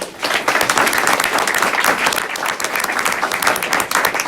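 Students being honored as winners at a school board of education meeting receive loud, full audience applause, dense and sustained clapping from many people throughout the few seconds.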